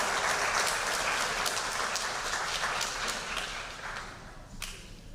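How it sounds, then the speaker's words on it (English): A banquet crowd at a winter and spring athletic banquet claps for a varsity girls basketball team. The applause is dense and steady, then thins out toward the end. "Let's give one more round of applause to the whole varsity girls basketball team,"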